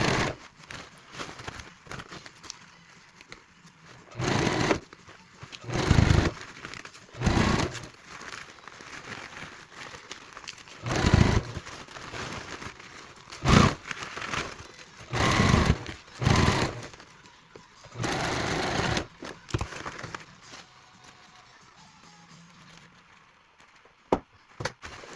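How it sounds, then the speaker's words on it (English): A sewing machine hems over a ribbon on a bustle skirt belt in short, loud bursts of stitching separated by pauses, some with a low thudding pulse, close and without talking. "I'm coming over the ribbon, and I'm just going to check it to make sure that it's flat as I hem over it"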